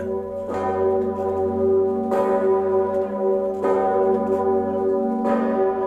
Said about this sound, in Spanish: La gigantesca campana de 9 toneladas de la Catedral de Babel repica.